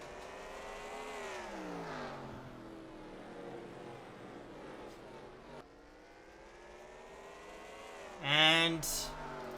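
Race cars roar through a NASCAR-style video game race at the Lionel 600, engines revving and sweeping in pitch as they accelerate around the track, with a loud burst near the end.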